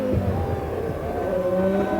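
Formula 1 race cars from 1999, a McLaren Mercedes and a Stewart Ford, drone down a straight, their engines a steady loud whine with rising pitch bands running throughout.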